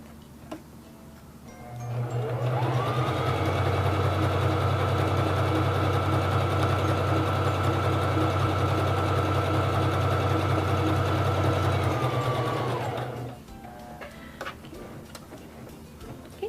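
A Singer 3333 sewing machine stitching a wide zigzag, a steady close mechanical whir with fast even ticking that runs for about ten seconds before stopping.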